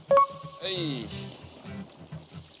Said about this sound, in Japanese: 用意してたお気づけのタレを入れていきます